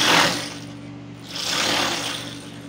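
Sewing machine stitching the seams of a mermaid skirt, two bursts of steady motor whir with a faint hum between runs, close and moderately loud with no talking.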